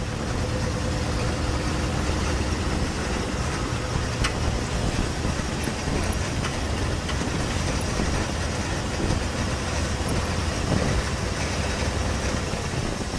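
An old safari vehicle rattles steadily as it drives through the bush on a sunset game drive at Djuma and Arathusa in South Africa, with a continuous loud, rumbling, clattering engine and road noise throughout.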